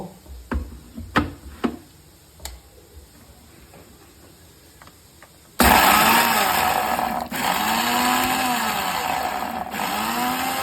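A few scattered clicks, then a mixer grinder roars to life and runs loudly and steadily, its pitch wavering as dry ingredients for prawn chammanthi churn.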